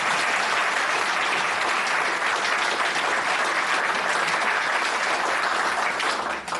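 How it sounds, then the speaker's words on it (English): An audience at a police association Diwali celebration gives loud, sustained applause, dense clapping holding steady throughout before tailing off slightly at the very end. "Please give an appreciative, mark my word, appreciative applause to Ramesh."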